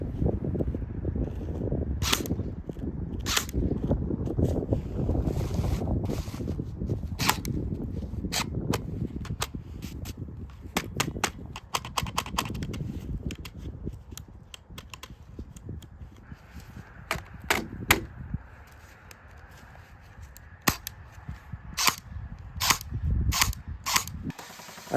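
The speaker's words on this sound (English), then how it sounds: "I like to test the reliability of my weapons by putting a few rounds through it on full auto." Cyma Sport CQB airsoft AEG rifle firing on full auto, giving sharp mechanical clatters in short bursts and scattered single shots over about twenty-five seconds, close and fairly loud, with no talking.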